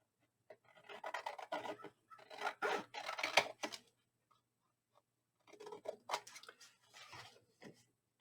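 Scissors snip and rasp through a paper square for a Halloween folio craft project, two bursts of close, soft cutting strokes separated by a pause, with no talking.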